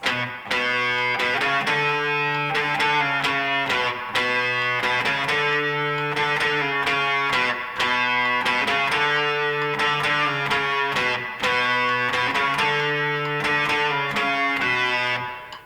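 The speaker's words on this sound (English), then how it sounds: "I'm using a fuzz face to get the fuzz sound" An electric guitar through a Fuzz Face pedal plays a repeating riff with fuzzy, buzzing notes, steady and loud throughout, with no voices.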